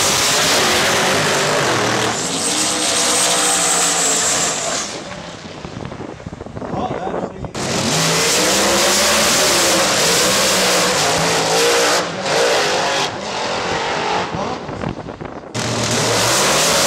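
A race car lapping at the Veidec Festival 2009 racing event roars past close by, loud engine revving and gear changes rising and falling in waves, with brief drops between passes.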